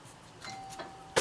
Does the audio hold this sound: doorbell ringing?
yes